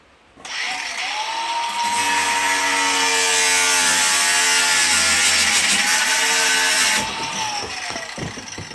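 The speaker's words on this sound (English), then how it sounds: "I just use an angle grinder." An angle grinder cuts through PVC pipe during plumbing work in a shed-to-house tiny home. A loud, steady high whine spins up, holds for about six seconds and then winds down close by.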